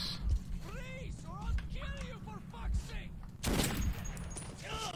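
A single sharp gunshot from the last bullet fired in the video game Metro 2033, bursting out loudly partway through, while a player talks excitedly before and after.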